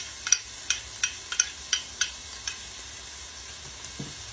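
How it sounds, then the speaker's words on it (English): Onions, garlic and ginger sautéing in a pan for arroz caldo, a quiet sizzle broken by regular scraping stir strokes that thin out toward the end. "So I'm gonna saute some onions"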